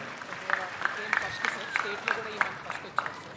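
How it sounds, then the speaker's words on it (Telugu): Audience at a government event in Andhra Pradesh giving a round of applause, scattered claps popping in a loose rhythm, fairly faint and distant, with a voice speaking over it. "గట్టిగా చప్పట్లు కొట్టి అభినందించండి"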